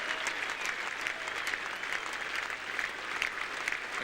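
A crowd at Old Trafford applauds a Test century by Jacques Kallis in a Cornhill Test, England against South Africa. Steady, dense clapping carries on throughout with no break, loud and spread wide across the ground.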